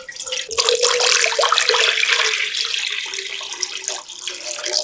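Tap water running into a pot or sink before boiling sweet potatoes: a steady, close rushing splash that starts abruptly and keeps flowing for several seconds, easing slightly near the end, with no talk.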